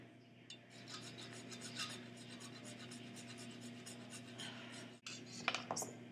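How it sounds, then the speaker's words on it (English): A whole nutmeg is grated by hand for an applesauce cake, giving repeated close, scratchy rasping strokes over a steady low hum, with a brief pause near the end before a few sharper scrapes. "we're going to take a nutmeg and we're going to grate about a teaspoon, half a teaspoon of nutmeg in here."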